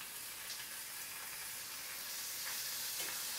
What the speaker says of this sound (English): the first thing we're going to do is get the pancetta going in the fry pan